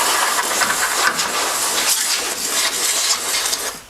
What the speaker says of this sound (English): I think this can of compressed air is about out.